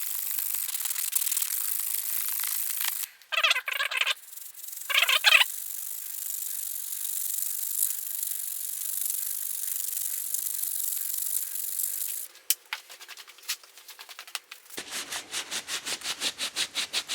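An old, tatty 1000-grit sanding disc scrubs in hissy bursts, with steady rubbing between short pauses, then quick rhythmic back-and-forth strokes near the end.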